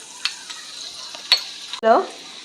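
Crushed garlic goes into a hot pan for Schezwan chutney, with a few faint clinks and scrapes before a sudden loud sizzle that bursts up and keeps frying.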